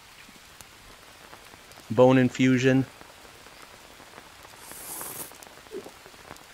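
Steady rain falls in the jungle survival game Green Hell, a soft continuous patter on surfaces throughout, briefly under a short spoken phrase.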